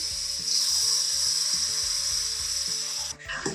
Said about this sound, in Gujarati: તો હવે આપણે એમાં દૂધ નાખવાનું છે, થોડું થોડું નાખવાનું